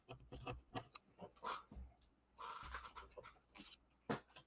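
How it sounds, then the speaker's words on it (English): A small dog pants in quick, breathy bursts close by, with a few faint whimpers mixed in, heard through a quiet room setting. "Where's my little dog?"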